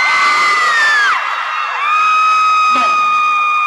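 A loud crowd of fans at a free Children's Day concert at The Paseo Town, Ramkhamhaeng, shrieks and cheers. The high-pitched screams swell and fall in waves close to the microphone.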